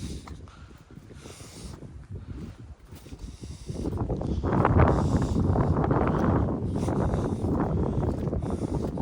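Strong wind blows outdoors on a mild spring day in southern Alberta, a steady broadband rush buffeting the microphone, building louder and gustier after the first few seconds with no talk.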